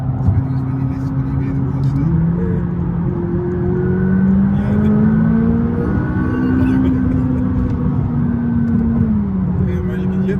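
McLaren 570S Coupe twin-turbo engine accelerating, a steady loud low drone rising in pitch over several seconds, with a person talking over it.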